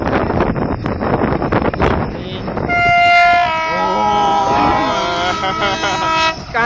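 A train passing close by blasts a long, loud multi-tone horn with wind buffeting the microphone, while rumbling wheels and carriages roll past in a continuous roar.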